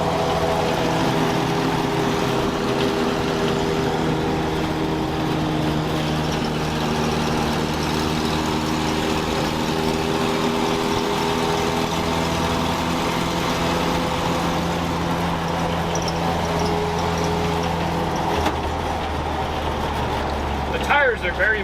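A 1964 International Scout 80 engine runs steadily after a tune-up, a continuous low rumbling idle with harmonic drone, loud and close throughout, changing slightly near the end.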